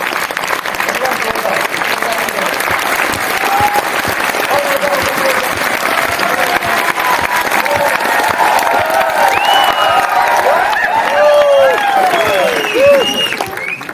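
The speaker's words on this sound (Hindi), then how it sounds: "एक जोरदार ताली हो जाए।" Audience applause in a hall, a loud sustained wash of clapping from a large crowd lasting the whole stretch, with scattered voices and faint cheers rising toward the end.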